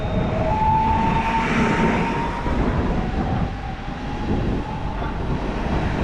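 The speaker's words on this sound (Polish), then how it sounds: "A przed nami kolejny pociąg lotniskowy, kierunek Modlin" An airport train bound for Modlin passes Warszawa Toruńska station, a loud close continuous rumble of wheels on rails with a high squeal early on and steady rolling noise throughout.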